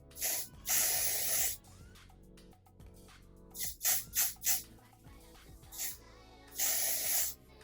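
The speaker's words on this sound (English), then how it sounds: "I apply 3 layers of either like whatever spray" Several hissing bursts of hair spray, some long and some short and quick in a row, with quiet rustling between them.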